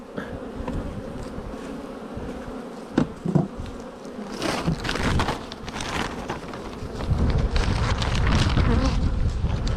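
Honey bees swarm around an open hive as it is being closed, a dense steady buzz filling the air close by, with rustling and knocking handling noises and a few sharper thuds partway through.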